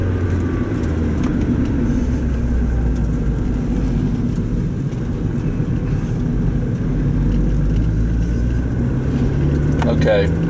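A Mazda Miata NB roadster drives along with a steady, loud engine drone and road rumble throughout, accelerating near a residential cul-de-sac, with a low drivetrain hum underneath.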